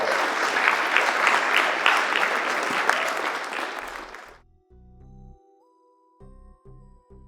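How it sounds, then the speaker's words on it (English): A crowd applauds parents and coaches in a loud, dense burst of many clapping hands lasting about four seconds, then cutting off abruptly into quiet with a few soft tonal sounds after. "Please give a round of applause"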